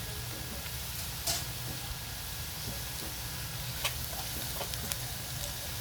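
Onions frying in a pan until soft and caramel-brown for a Maharashtrian akkha masoor dish, a steady low sizzle running throughout with a few faint ticks and stirring clicks, no talking.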